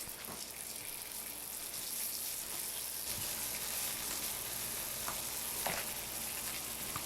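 Belly bacon frying slowly in a pan: a continuous crackling sizzle with scattered pops, close and steady throughout, with no talking.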